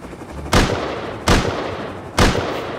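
Three sharp, loud gunshots ring out in the survival game Rust, spaced under a second apart. Each one cracks hard and then fades into a brief echoing tail. No one speaks over them.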